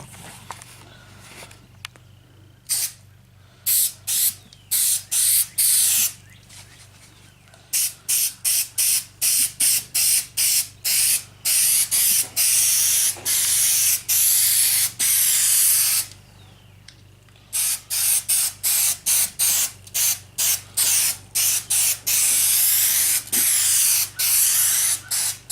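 An aerosol can of adhesive sprays onto the back side of door upholstery fabric in a long series of sharp, loud bursts of hiss separated by brief pauses.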